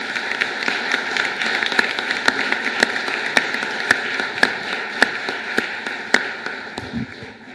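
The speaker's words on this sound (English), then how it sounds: "And I think you can all give another round of applause for that." Applause at an MRCPI ceremony, with scattered, moderately distant handclaps rising out of a steady room hum in an irregular patter, sparse rather than thunderous and without any voices.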